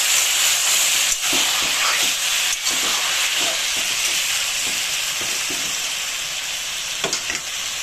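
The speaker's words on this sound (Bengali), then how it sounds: "সামান্য জল দিয়ে দিলাম মশলাটাকে কষাবার জন্য। জলটা আগে থেকেই গরম করে রেখেছিলাম, জলটা আমি দিয়ে দিলাম।" Hot water poured into frying spice paste in a pan for a fish and brinjal curry, giving a loud continuous hissing sizzle with a few soft scraping stirs underneath.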